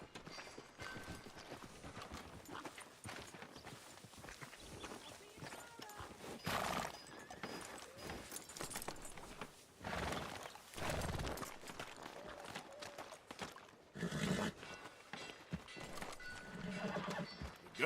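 Horse hooves clip-clop in Red Dead Redemption 2, a soft, steady walking rhythm with occasional whinnies and snorts, joined by brief bursts of noise and voices talking at times.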